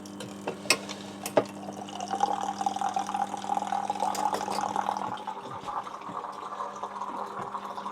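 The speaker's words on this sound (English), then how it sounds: "I'll do another quick rinse just because we can." Running water rinses 35mm black and white film during home processing, a steady moderate trickle and pour with a few sharp clinks and drips at the start, then fading slightly toward the end.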